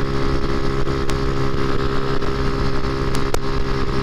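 A moped engine drones steadily while cruising at highway speed, a loud, constant buzzing hum with wind rush and no changes in pace.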